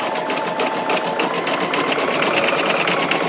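A sewing machine runs a satin stitch on an appliqué quilt, producing a steady, fast, even mechanical whir with rapid needle clatter at close range and no talking.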